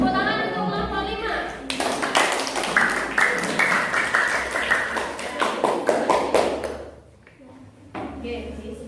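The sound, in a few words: class clapping for group 5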